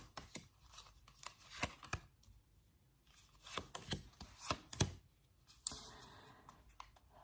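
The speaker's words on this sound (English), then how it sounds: "let's pull out some cards for air signs" Tarot cards shuffled and pulled for a weekend reading, a run of close, papery riffles, slaps and flicks in irregular bursts with quiet pauses between, no talk.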